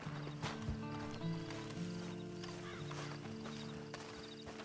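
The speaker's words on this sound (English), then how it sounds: "Then you better get on this horse." Hooves clip-clop steadily while a horse gives a short whinny, set against a low ambient musical drone, in the video game Red Dead Online.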